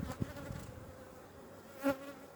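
Honeybees buzz at an opened hive in spring, a steady faint hum up close with a couple of louder passes as single bees fly near.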